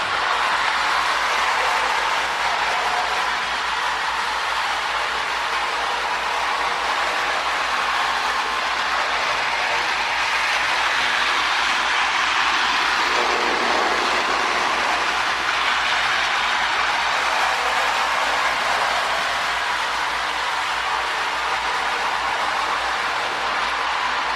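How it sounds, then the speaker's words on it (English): A small 1930s Marx Mercury Copper Queen streamliner toy electric train hums and rattles steadily along its track, a continuous whirring clatter close by with no voices. "Amazing how well these old trains run."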